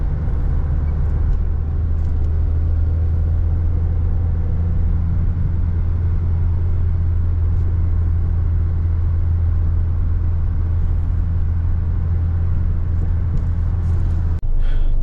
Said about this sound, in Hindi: यहाँ पे आके गाड़ी बिल्कुल रुक गई थी, अब यहाँ से हमने खुद चला ली है।